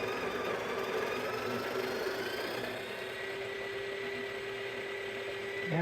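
A coffee grinder grinds espresso beans in a steady, close motorized whir with a constant humming tone, running unbroken without talk.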